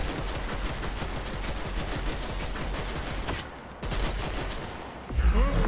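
Rapid sustained gunfire in Dead Island 2 on a subway, dense automatic shots at close range that pause briefly and then resume, ending with heavy low thumps.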